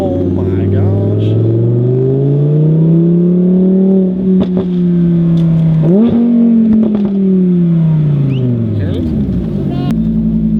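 An Audi R8 accelerates hard, its engine a loud, close, rising howl that climbs in pitch through the gears with a brief shift dip; excited voices break in over it.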